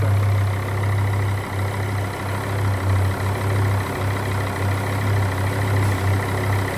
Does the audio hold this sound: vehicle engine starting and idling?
yes